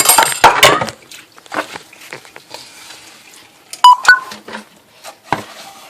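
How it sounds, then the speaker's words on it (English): Pots and a bowl being washed in a home kitchen, giving a few sharp clinks and knocks of cookware scattered among quieter gaps, with scrapes and small clatters close by. "we're washing these pots"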